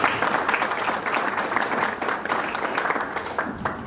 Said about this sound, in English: let's give Dale Keipert a warm round of applause